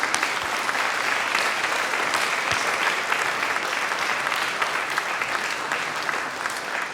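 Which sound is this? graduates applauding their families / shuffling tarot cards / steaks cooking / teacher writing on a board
graduates applauding their families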